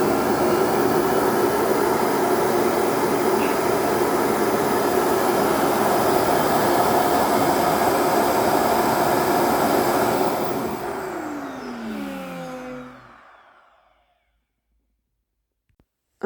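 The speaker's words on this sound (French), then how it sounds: "lorsque j'appuie longtemps, ça va venir en fait vider le bac à poussière" Robot vacuum charging station automatically emptying the dust bin: a loud, steady roaring suction for about ten seconds that winds down with a falling whine before stopping abruptly into silence.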